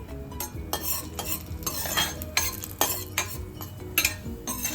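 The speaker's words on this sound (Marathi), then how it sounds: "आता आपण या काजूचे तुकडे पण तुपात परतून घेऊया।" Cashew pieces stirred in hot ghee in a metal pan for kheer, with repeated scraping clinks of a spoon against the pan over a soft sizzle, close and fairly quiet, with no talking.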